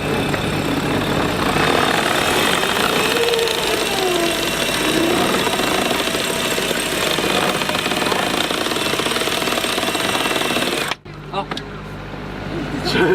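A sailboat's motor runs close and loud with a steady rattling drone for about eleven seconds, then cuts out abruptly, leaving quieter wind and boat sounds.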